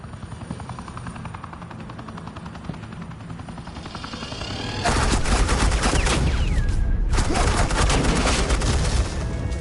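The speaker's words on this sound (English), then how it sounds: "suppressing fire" A helicopter drones steadily, then heavy sustained suppressing gunfire breaks out in the Batman: The Telltale Series game, loud and continuous with a brief pause before it resumes.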